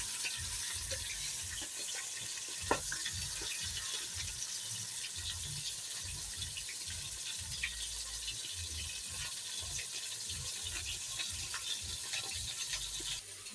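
Chicken gizzard fries in oil inside a rice cooker at home, a steady close sizzle with faint crackles and an occasional stir or clink.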